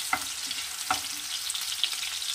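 Eggs fry lightly in a pan with a steady, close hiss, broken twice by a quick clink of a utensil against the pan.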